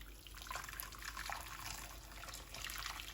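Liquid is poured in steadily while cooking, a faint continuous trickling and splashing that lasts a few seconds with slight surges, close by and with no talking.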